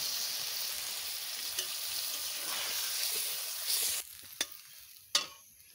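Tilapia pieces fry hard in a pan of hot oil and spices, giving a loud, steady hiss that stays close and unbroken, then drops off sharply after water goes in, leaving a few short pops and spatters.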